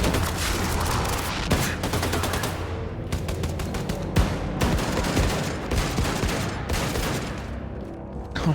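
Dense rapid gunfire in a video game while shooting Nazis, continuous automatic bursts with sharp individual shots layered over each other, loud and close throughout.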